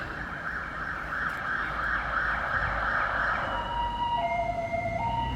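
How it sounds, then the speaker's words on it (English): A single sharp, heavy cannon boom in a tank video game hits partway through, followed by a sustained low rumble that stays loud to the end. "Oh, it's an ambulance."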